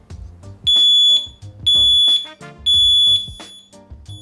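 A smart smoke detector sounds three loud, piercing beeps at a steady rhythm during a test, each about half a second long, with a faint background clatter between them.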